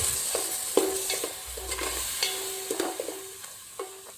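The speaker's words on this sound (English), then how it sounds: "stir the entire things properly with the powders" A spoon stirs tomato puree and spice powders in a hot pan, producing frequent sharp metallic clinks and scrapes over a low sizzle, close and fairly loud, with no talking.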